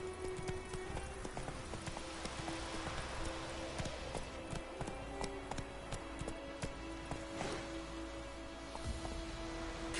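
Hooves of the horse Roach clip-clop at a steady running rhythm in the video game The Witcher 3, amid dense game ambience and low rumble, fairly faint overall.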